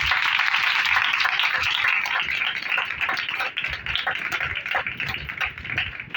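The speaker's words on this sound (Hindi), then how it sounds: "उनके लिए जोरदार तालियां बजाएं" Church congregation applauding loudly after a call to clap during a Christian family gospel gathering, a dense, steady wash of many hands that holds strong throughout, easing slightly toward the end.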